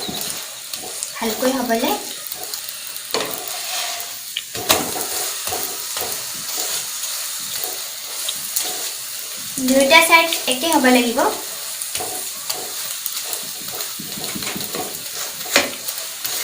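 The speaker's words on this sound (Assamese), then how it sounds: "মই সৰিয়হৰ তেলেৰে ভাজিছোঁ।" An aloo paratha frying in mustard oil on a pan, a low steady sizzle with occasional pressing and scraping sounds, heard beneath someone speaking at intervals.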